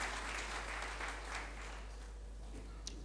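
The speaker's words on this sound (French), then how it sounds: "Est-ce que quelqu'un peut acclamer le Seigneur Dieu?" A church congregation applauding and cheering for the Lord, steady close clapping that holds for a few seconds and then softens slightly near the end.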